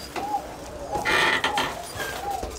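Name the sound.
pigeons cooing in a Koka pigeon loft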